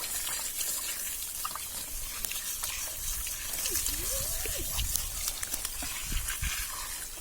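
Water is poured over a dog's head during a bath, splashing and trickling steadily up close, with faint background voices and a few short sounds.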